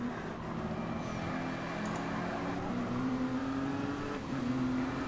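Race cars lapping Spa Francorchamps near Pouhon in a racing video game, a steady engine drone with sustained tonal whine as cars pass, with no voices.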